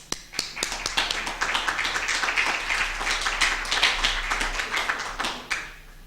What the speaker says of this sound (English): It's nice to have some applause at the beginning.